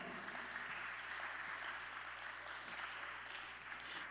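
Church congregation applauding during a sermon, a steady, fairly faint wash of clapping that fills the whole stretch with no talk over it.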